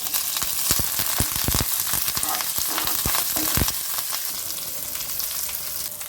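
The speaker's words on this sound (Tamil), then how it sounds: "பெருங்காயத்தூள் கொஞ்சம் போட்டுக்கலாம் இப்போ கலந்து விடலாம்" Horse gram chutney ingredients sizzle loudly in hot oil as asafoetida is stirred in, with dense continuous frying crackle and repeated scraping stir strokes up close.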